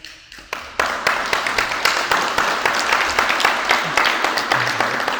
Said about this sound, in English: I don't need the applause. I don't want the applause.